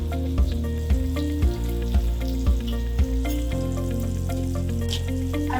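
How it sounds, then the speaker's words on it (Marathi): Onion frying in oil with turmeric, garam masala and coriander powder for a village-style black-eyed pea curry, a steady close sizzle with periodic stirring scrapes and clinks of the spoon against the pan. "तेलामध्ये व्यवस्थित परतवून घ्यायचा।"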